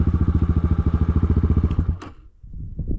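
A Rottor Puncher 250 motorcycle rides along a forest road, its engine chugging in a fast, steady pulse close by for about two seconds before the sound drops away and a softer rumble returns.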